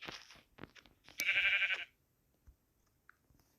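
Sheep in the video game Minecraft let out a short bleat amid faint clicks and crunchy footstep-like noises, heard alone without voices at a quiet level.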